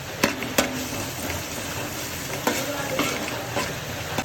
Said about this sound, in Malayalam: കുറച്ച് സവാള ഇട്ട് കൊടുക്കാം